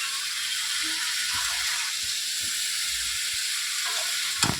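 Spinach curry with cauliflower, pumpkin, flat beans, pointed gourd, potato, aubergine and radish sizzles steadily in a pan. A soft, even hiss carries scattered faint bumps and ends with a brief utensil clatter.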